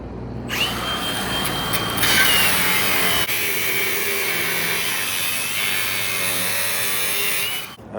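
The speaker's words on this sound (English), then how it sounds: "Currently started drilling out bay 2." A power drill bores out an old car wash bay during a Las Vegas remodel, a loud steady whirring grind running for several seconds and cutting off abruptly near the end.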